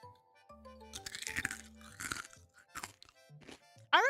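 A crunchy snack is bitten and chewed up close, giving a rapid series of dry, crackling crunches over a few seconds, with soft tonal background sounds beneath.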